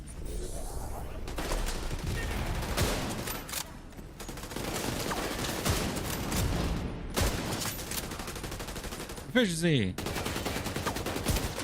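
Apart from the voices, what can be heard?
sniper rifle gunfire in the video game The Division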